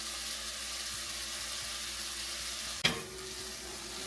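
Spinach dip ingredients sauté in a covered pan, a steady soft sizzle hissing continuously, broken once by a brief clatter near the end before the frying settles back, no voices.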